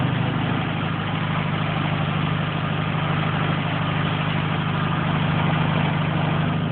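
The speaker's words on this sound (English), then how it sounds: "It's idling kind of high right now" A Volkswagen Beetle engine idles high on the choke with a steady, loud, unbroken drone that holds an even pitch throughout, close up and with no talk over it.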